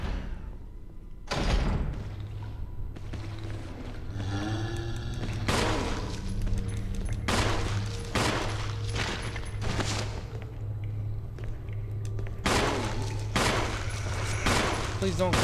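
Gunshots in the Resident Evil video game, as Jill fires a series of loud, sharp blasts spaced a second or two apart with some clustered bursts, over a low in-game ambient hum.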